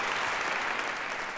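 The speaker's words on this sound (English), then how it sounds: "give yourselves a huge round of applause" A large crowd at a Brand of the Year awards show gives a dense, continuous round of applause, loud and evenly sustained throughout the short burst.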